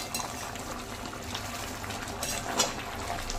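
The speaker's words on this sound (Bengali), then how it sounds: "এবার আমি অল্প করে গ্রেভি করার জন্য জল দিয়ে দিলাম।" Boiling-hot water is poured into a pan of red, spicy chicken gravy, a steady close splashing and bubbling hiss with faint utensil clinks.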